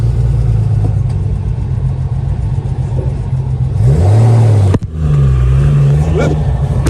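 A Triumph Vitesse engine revs up hard with the bonnet down, its note sweeping up and falling back twice over a steady loud idle, close by.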